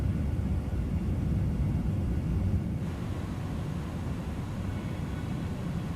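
Steady, dense engine drone of a light aircraft cruising in Microsoft Flight Simulator, a continuous broadband rumble with no breaks and no voices.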